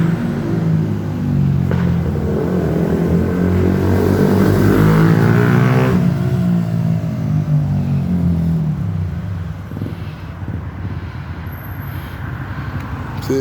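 A truck passes along a street near the railway station in a Brussels neighbourhood, a loud low rumble that swells toward the middle and then slowly fades as it moves away.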